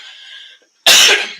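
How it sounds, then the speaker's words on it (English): A single loud, harsh cough from a person with bronchitis bursts out close to the microphone and tails off quickly, following a faint, steady tonal hum and a brief silence. "sorry about the coughing"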